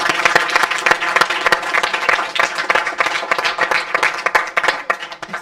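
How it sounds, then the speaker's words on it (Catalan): Loud, lively applause from a studio audience on a school and handball club programme, dense clapping with a few sharper individual claps standing out throughout. "Un fort aplaudiment per ells."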